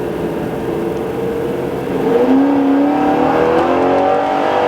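A Chevrolet Corvette engine revs loudly and climbs through quick gear changes in the transmission's manual mode, the pitch rising with each pull, close and alone without any talking.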